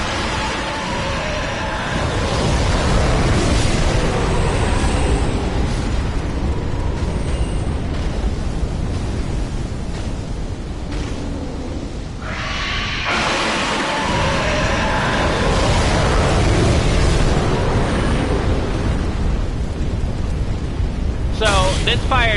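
A dragon breathes fire in Dark Souls 3, a steady, loud roaring rush that surges and swells over many seconds while a person talks over it.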